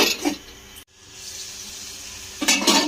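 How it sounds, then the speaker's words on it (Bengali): Masala spice paste fries in a covered pan with salt for a lentil and soybean vegetarian dish, giving a steady close sizzle that briefly cuts out, then returns louder in a final burst. "মশলাটাকে একটু ঢাকা চাপা দিয়ে কষিয়ে নেব"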